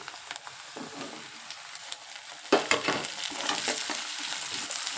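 Onions and tomato frying in a pan for girmit, a steady close sizzle with scraping stir strokes that grow busier and louder midway through, no voices.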